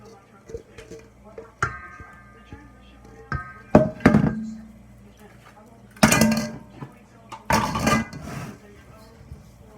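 A spatula folding cake batter in a bowl, heard as a series of scraping knocks and clanks against the bowl at irregular intervals, fairly close and moderately loud, with a voice speaking between the strokes.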